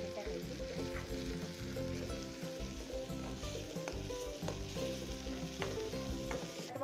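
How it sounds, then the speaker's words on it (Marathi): Masala sizzles and crackles steadily in hot oil for a Vam fish curry, a dense, continuous frying hiss with occasional pops, close and loud with no talking. "तेलामध्ये चांगला मसाला परतल्यानंतर त्याच्यामध्ये काळं तिखट किंवा काळा मसाला, काळी चटणी टाकायची"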